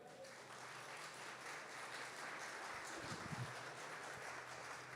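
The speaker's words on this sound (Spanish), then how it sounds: "¿Puede dar un aplauso al Señor?" A church congregation claps together in sustained, steady applause during a Spanish-language service, a dense even wash of hands filling the room for the whole stretch with no pauses.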